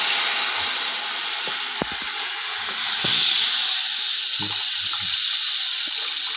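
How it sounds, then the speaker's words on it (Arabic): Water pours into a pot of rice with fried onion and sugar for sayadiya rice. A steady hissing rush runs throughout and swells midway, with a few soft knocks under it. "هنضيف المية"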